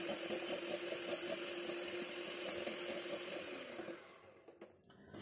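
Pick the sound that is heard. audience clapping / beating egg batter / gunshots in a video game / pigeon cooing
beating egg batter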